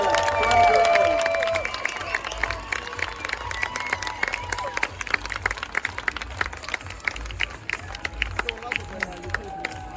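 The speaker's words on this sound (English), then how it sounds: "let's give these two teams a huge round of applause" An audience applauds the America's Cup sailing teams on stage in Barcelona. The clapping is dense and sustained and carries on for about ten seconds. Near the start an announcer's voice rises over the applause.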